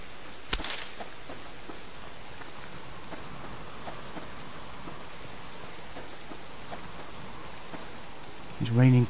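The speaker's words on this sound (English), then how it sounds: "It's raining persistently." Persistent rain falls steadily outdoors, a dense, even patter of drops that continues throughout, with a brief knock early on and a voice starting to speak right at the end.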